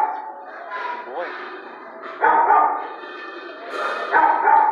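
A shelter dog about two years old gives a few short barks and whimpering yips in a kennel, close and fairly loud, interleaved with a person's praising voice.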